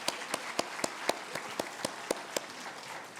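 In a church worship service, a few hands clap in a slow, even rhythm, about ten distinct claps, soft and somewhat distant against a quiet room.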